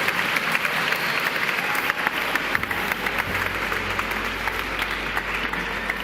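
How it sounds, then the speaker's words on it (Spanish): Live audience at a science outreach show applauding, a dense sustained wash of many hands clapping loudly and close, with a low rumble beneath and no speech. "Un aplauso para Santiago."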